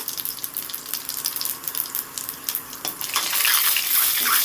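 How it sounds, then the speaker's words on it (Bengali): A tempering of dried red chilies, a torn bay leaf and whole cumin fries in oil while being stirred: soft scraping and light crackle at first, then the sizzle swells and stays loud and close. "ফোড়নটা একটু নেড়ে চেড়ে সুন্দর করে আমি ভেজে নেব"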